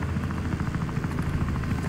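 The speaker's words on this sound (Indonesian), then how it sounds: "Iya, aku ikut pakai helikopter" A helicopter in the video game Wobbly Life thrums steadily with a fast, even rotor chop, close and continuous throughout, with no voices.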